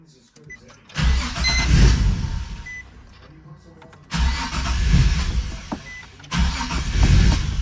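A Nissan 370Z, after a blown engine-control fuse was replaced, cranks and starts in three separate bursts with pauses between, loud and close, with some talk nearby.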